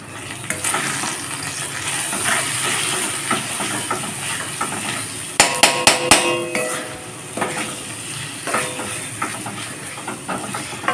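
Poppy seed paste with onions is stirred in a pan over a low flame, giving a steady hiss and sizzle. Scraping and clinking hits from a utensil against the pan come in a burst near the middle.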